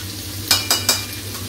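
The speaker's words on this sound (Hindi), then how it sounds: "और प्याज, और इसे मैं फ्राई कर लूंगी कुछ देर के लिए" Onion frying in a pan makes a soft background sizzle, broken by three quick, loud scraping strokes of stirring close together near the middle.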